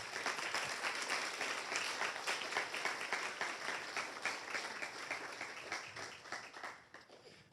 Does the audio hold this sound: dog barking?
no